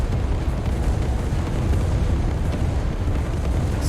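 RPG explosions in the zombie video game SwarmZ, a dense continuous rumble of overlapping booms and blasts, steady and loud with no pauses and no voices.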